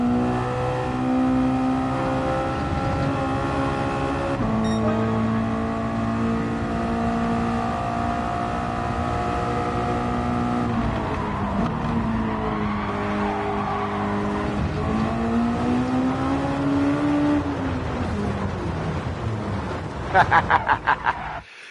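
A race car engine in a sim racing game, loud and constant, with the pitch rising through the gears, dropping on shifts and braking, then climbing again, and a brief rattle of rumble strip near the end.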